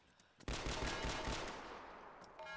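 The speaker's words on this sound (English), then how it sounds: "There's fire coming from the north." Gunfire in the Arma 3 video game rings out as a sudden loud burst of rapid automatic shots, roughly a second of fast repeated cracks that then fade into a long echoing tail.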